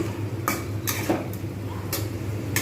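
Masala being stir-fried in a pan for patal paneer, with a few sharp spatula scrapes and clanks against the pan over a steady low kitchen hum, close by.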